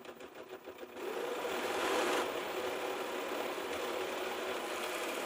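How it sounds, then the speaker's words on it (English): Serger sewing machine stitching rows of fabric together in one steady, close whir that starts after about a second and runs continuously, with no talk. "we are going to sew the first one together"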